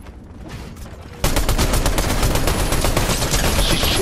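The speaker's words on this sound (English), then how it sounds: "She's shooting from her drums, dude." Rapid gunfire from Lady Gaga's drums in Fortnite, a dense loud barrage of shots kicking in abruptly after a quieter stretch and continuing steadily to the end.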